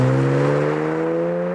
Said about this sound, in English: 335 engine is an inline 6-cylinder with bi-turbo technology, high precision direct injection